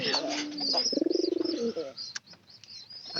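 Pigeon cooing near a straw nest where chicks have hatched, a rapid pulsing coo run of about a second standing out among scattered chirps and clicks, close and moderately loud.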